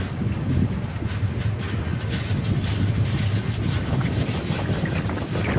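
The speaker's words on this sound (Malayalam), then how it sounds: "ഗോരഖ്പൂർ രപ്തിസാഗർ സൂപ്പർഫാസ്റ്റ് എക്സ്പ്രസ് ആയി നമ്മളിപ്പോൾ യാത്ര ചെയ്യുന്നത്" The Gorakhpur Raptisagar Superfast Express rolls along with a continuous low rumble and rattle from inside the carriage, overlaid with steady wind rush and faint rhythmic clatter from the wheels.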